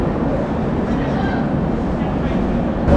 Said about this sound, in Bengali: সো ট্রেন ঢুকে গেছে